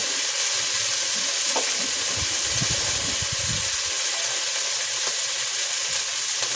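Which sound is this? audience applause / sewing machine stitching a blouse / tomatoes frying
tomatoes frying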